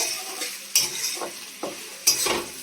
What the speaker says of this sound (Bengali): এটা ভালো করে একটু ভেজে নিলাম